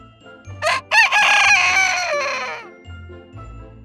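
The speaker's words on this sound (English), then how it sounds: "The sound of cocks," A rooster crows nearby, loud and clear. A couple of short opening notes lead into one long, drawn-out call that fades at the end.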